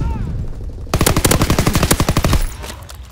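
Combat shotgun fire in a military video game, a rapid close and loud burst of repeated shots lasting about a second and a half over quieter game ambience.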